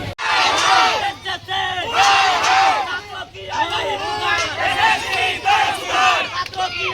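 A large crowd of student protesters shouts and chants together in loud, continuous waves of voices, with rising and falling surges throughout.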